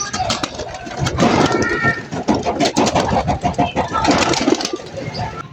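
Young racing pigeons released from a loft, with busy close wing flapping and bird calls building into a dense flurry of takeoff, and a voice speaking over part of it.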